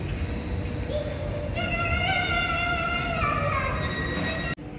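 A Swiss train stands at a station platform in Switzerland. Its brakes squeal in a long, rising multi-tone whine over a steady rumble, close and loud, before cutting off abruptly.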